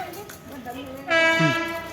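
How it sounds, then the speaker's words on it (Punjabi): A goods train arriving, its horn sounding loud and sustained partway through, over a background rumble and nearby voices. "ਟ੍ਰੇਨ ਆ ਗਈ"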